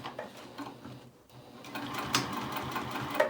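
A sewing machine runs in short bursts while backstitching a seam on a simple crossbody bag, its mechanical whir and clatter close and steady, briefly pausing before resuming.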